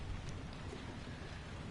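Rain falls steadily in a dense, even hiss with scattered drops, quiet and continuous throughout with no other sounds.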